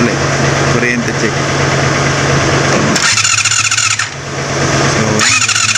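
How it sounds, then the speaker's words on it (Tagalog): A Yamaha FZR 250 motorcycle under restoration cranks and runs, a loud close engine drone with sharp high-pitched bursts of revving or starter whine that cut in and out. "Engine run."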